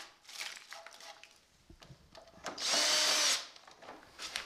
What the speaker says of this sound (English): Now, I was able to drill all the way through